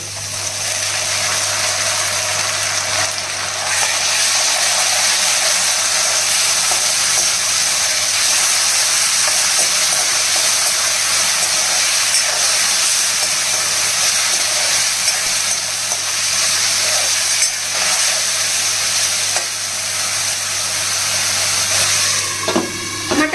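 A continuous loud sizzle and hiss of blended tomato puree frying in a hot pan, with faint stirring scrapes throughout and no talking.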